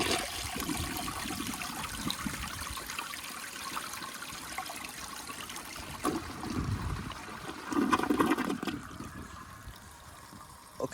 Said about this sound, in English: I'm gonna give you a flush